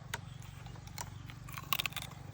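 Crispy fried pork belly is bitten and chewed up close, with several sharp, loud crunches and crackles over quiet chewing.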